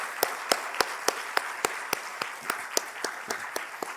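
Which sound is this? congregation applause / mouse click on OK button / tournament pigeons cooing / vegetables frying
congregation applause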